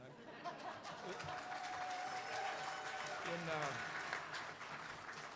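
Conference audience applause in a hall, a faint steady wash of clapping with murmuring voices, distant and low in level.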